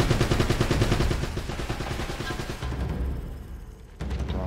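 Rapid machine gun fire in Uncharted: Drake's Fortune, loud bursts of fast, evenly spaced shots that ease into a dense rattling fusillade, with a fresh volley near the end.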